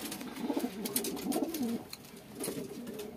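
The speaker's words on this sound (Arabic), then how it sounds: "هاد النتوة خلاص هادي من الحمام ديال السرعة اللي في اللوفت" A racing pigeon in a loft coos close by, with repeated low throaty rolling calls in two bursts separated by a short pause.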